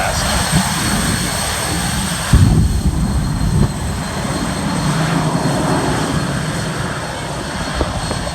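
A jet car fitted with a General Electric jet engine runs at an air show, a loud steady roar with a brief surge partway through, over crowd noise.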